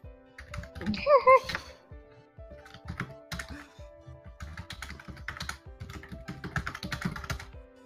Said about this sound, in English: Typing intensifies.